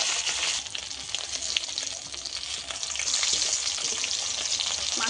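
Hilsa fish heads fry in hot oil in a pan, giving a dense, continuous crackling sizzle that swells slightly partway through, close and steady with no talking.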